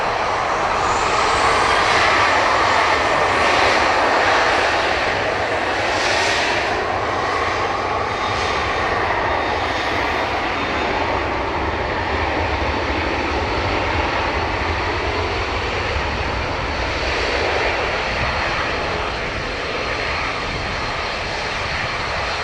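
Ryanair airliner engines roar continuously at Dublin Airport, a loud, broad, sustained jet rumble with a slowly shifting tone as the aircraft moves, filling the whole stretch with no talk.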